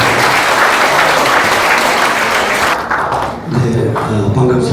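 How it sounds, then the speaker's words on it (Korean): Loud, dense applause from a large forum audience welcoming a speaker, sustained throughout, thinning briefly near the end before swelling again. "큰 박수로 환영해 주십시오"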